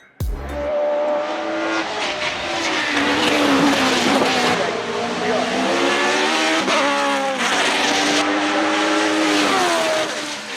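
BMW E36 hill climb race car driving hard, its engine revving loudly with rising and falling pitch through gear changes and a brief tire squeal, close and continuous with no talking.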